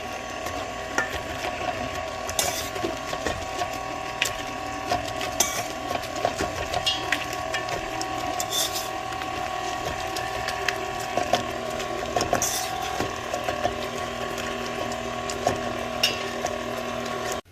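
A stand mixer folds whole and chopped cranberries into muffin batter, its motor holding a steady hum throughout with small clicking, rattling taps from the beater and bowl scattered on top.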